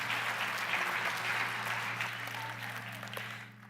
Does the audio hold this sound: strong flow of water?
no